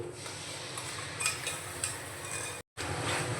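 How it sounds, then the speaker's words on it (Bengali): Masala paste of ginger, garlic and tomato being stirred in a pan over a medium gas flame for palak paneer, soft scraping and light clinks of the spoon running steadily with a brief pause. "মশলাটা আমি এইভাবে নাড়াচাড়া করব"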